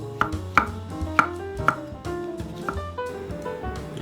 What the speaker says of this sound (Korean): 그래서 얇게 슬라이스를 해줍니다.